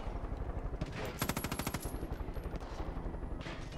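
Automatic gunfire in the shooter game Far Cry 5, a fast rattling burst of machine-gun shots near the middle, framed by scattered shots and softer distant firing, with no talking.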